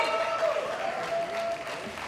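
Audience applause at a Family Man Season 3 cast event, moderately distant and thin, a short burst of clapping with a faint tonal hum running underneath.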